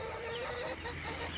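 Rhode Island chickens cluck steadily in a small farm coop, a dense overlapping chorus of hen calls at close range with no talking.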